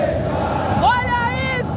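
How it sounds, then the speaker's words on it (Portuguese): Palmeiras football supporters roar and chant in a packed Mineirão stadium, a dense crowd wash with rising whoops and a sustained collective shout, loud and close. "Isso é a torcida do Palmeiras, rapaziada! Que torcida maravilhosa!"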